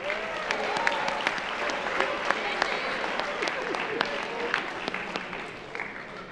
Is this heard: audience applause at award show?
yes